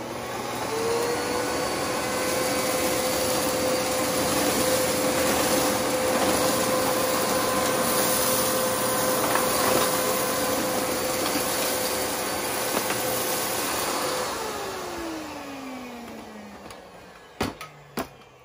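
A Miele S7 upright vacuum cleaner runs on high suction with a steady, close motor drone for about fourteen seconds. Its pitch then sinks as it winds down, ending with a few sharp clicks.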